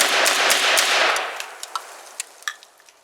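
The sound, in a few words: Yugo Zastava M56 semi-auto firing first rounds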